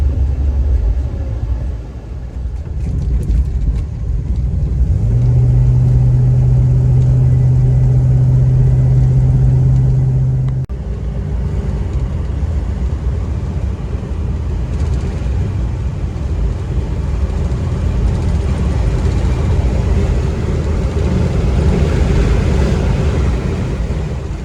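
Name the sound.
Studebaker car driving at highway speeds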